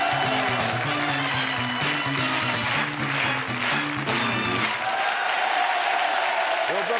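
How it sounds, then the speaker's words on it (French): Studio audience on the French TV game show Attention à la marche applauds steadily for several seconds, a dense wash of clapping with music playing underneath that fades out toward the end. "Et on peut applaudir très fort Sébastien"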